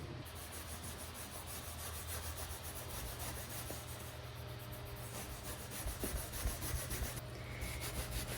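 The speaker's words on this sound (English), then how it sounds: "I'll apply it with a rag this time, just kind of rub it in" Steady soft rubbing of a rag working red oak stain into faux-wood (not real wood) trim inside a van, a continuous close scrubbing texture with slight swells, no talking.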